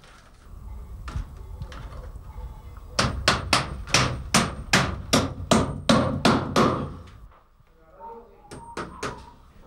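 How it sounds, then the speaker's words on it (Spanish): Nails are hammered into wooden beams to fix a woven cane ceiling. A rapid, evenly spaced run of about a dozen sharp, close blows follows a few scattered knocks, and softer taps come after it. "Una nueva fijación con los clavos a los maderos dejaba preparado el tejido de caña para la aplicación del yeso."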